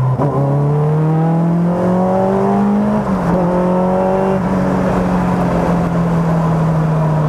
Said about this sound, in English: So we'll just drop a couple of gears and we'll let the noise out.